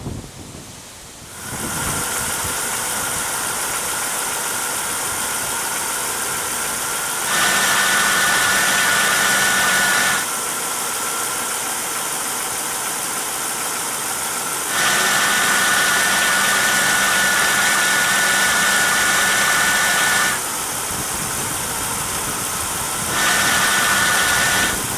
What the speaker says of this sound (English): Now I can definitely hear a whirring noise.